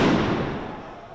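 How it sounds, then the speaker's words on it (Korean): A single booming explosion goes off during a street protest against pension reform in France, loud at first and then trailing off into a rumbling decay. "매캐한 연기가 거리를 뒤덮고 곳곳에서 폭발음이 들립니다"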